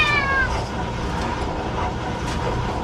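A cat named Rox gives a short meow at the very start, over a steady background hum and some faint noise, indoors in a bedroom.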